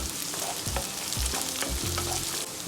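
Finely chopped cabbage sizzles and fries in a pan while a spoon stirs it, with repeated scraping and knocking strokes over a steady close hiss.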